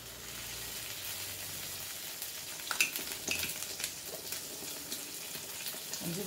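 Butter sizzles in a pan around a soufflé omelette, a soft steady frying hiss close by with a few brighter crackles and light clinks midway, no voices heard.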